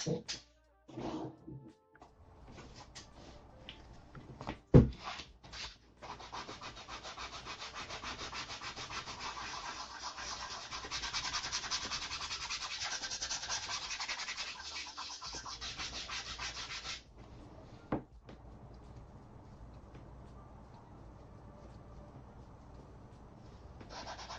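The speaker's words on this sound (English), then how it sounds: "I want to sand it just a little more" Someone hand-sands a part during build prep, a steady, dry rubbing that runs for about ten seconds, close and moderately loud, with a few scattered knocks and handling noises before and after and no talking.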